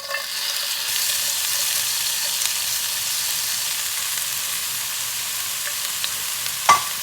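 Finely chopped onion frying in a tablespoon of hot oil, giving a steady close hiss and sizzle with a faint clink near the end.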